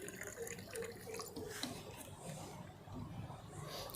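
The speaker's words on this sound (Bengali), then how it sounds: "এই পাত্রটি ভরে ফেলুন এইভাবে জল দিয়ে" Drinking water is poured into a pot, a steady close splashing and trickle that runs the whole time with no talk over it.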